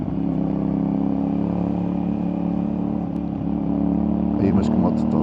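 CFMOTO 450NK motorcycle engine running steadily while riding, a constant close drone with wind rush throughout and a brief rise near the end.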